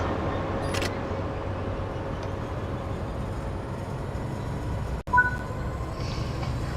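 High-speed train set in a rail simulator game, heard as a steady low rumble and hum with a faint tonal whine, a brief dip and clunk partway through, no voices.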